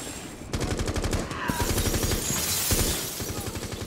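Rapid automatic gunfire from players in the video game Rainbow Six Siege, loud sustained bursts of shots with a short pause partway through before the firing resumes.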